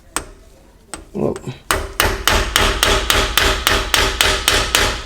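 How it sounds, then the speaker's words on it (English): A hammer strikes hard, again and again, knocking out a small 10mm bolt during shift rod seal replacement work on an oil leak. The blows are close and loud and land in a steady, even rhythm of about a dozen metallic smacks after a few scattered early taps. "I'm gonna take a hammer and we're just gonna smack it out."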